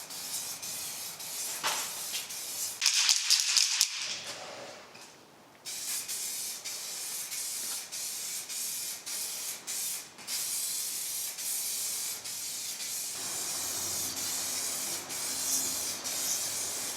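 Spray paint can coating a car wheel during a Mercedes 380SL restoration, delivering several sharp hissing bursts that stop briefly and then settle into a long steady close spray.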